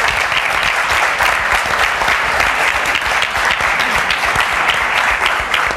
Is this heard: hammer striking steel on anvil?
no